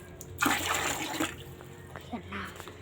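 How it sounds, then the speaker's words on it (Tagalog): Water is poured out in a short splashing burst near the start, then trickles and spatters more lightly while voices talk over it. "Lagyan natin ang tubig."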